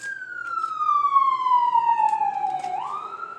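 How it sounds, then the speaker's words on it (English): A single wailing siren sweeps slowly downward in pitch, then rises again, loud and fairly close, with faint background noise beneath. "Sirens."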